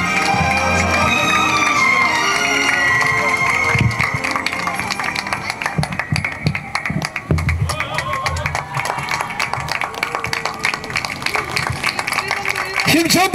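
A crowd at a Democratic Party campaign rally for a candidate in Tongyeong-Goseong, South Korea, keeps up loud, steady applause and cheering with scattered shouts. An amplified voice talks over the noise for much of the time.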